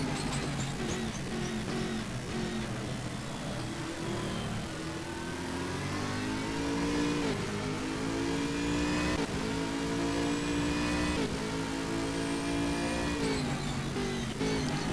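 GT3 race cars including a Lamborghini, an Aston Martin and a Nissan roar around the Red Bull Ring in Stock Car Extreme, engines revving and shifting continuously, loud and dense with overlapping rising and falling tones.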